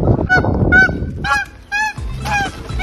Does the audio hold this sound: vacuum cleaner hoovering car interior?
no